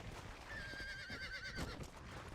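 A horse in Red Dead Redemption gives a quick, wavering whinny over a steady, busy game backdrop, fairly faint and mixed in with the ambient bed rather than standing out sharply.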